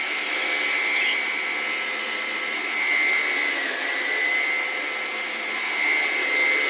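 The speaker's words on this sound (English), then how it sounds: "It seems like it's working a lot better than that other vacuum I tried." A Hoover One Power cordless vacuum cleaner runs steadily and close by, its motor giving a continuous whining hum that swells slightly now and then, with no talking.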